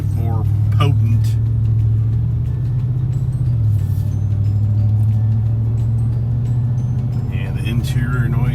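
A Ford Tremor pickup with a 7.3 engine and a new MBRP exhaust drives along, its deep steady engine drone and exhaust rumble loud and constant beneath someone talking over it.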